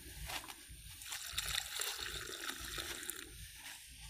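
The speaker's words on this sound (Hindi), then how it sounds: "अब ये टंकी फुल हो गई है, मतलब देखो पानी भी आ गया ना फिल्टर से बाहर" Water pouring out of a farm filter into a full tank, a steady splashing and sloshing that runs continuously throughout at close range.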